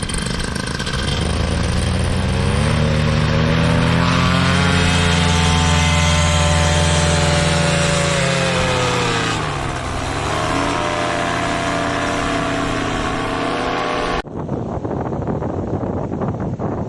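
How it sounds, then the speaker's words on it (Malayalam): A paramotor engine runs steadily and loud before a paragliding flight, its droning pitch rising and falling with throttle and wind buffeting the microphone, then cutting to a quieter, hissier background near the end. "കാരണം എഞ്ചിന് അത്ര സൗണ്ട് കേൾക്കുന്നുണ്ട് പുറത്തേക്ക്."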